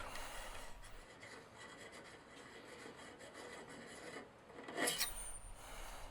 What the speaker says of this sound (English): take your Beretta choke tube wrench and remove your choke